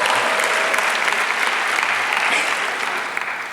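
Graduation crowd at a Dunkirk, NY high school ceremony bursts into sustained, dense applause and cheering, steady and loud throughout with no talk over it.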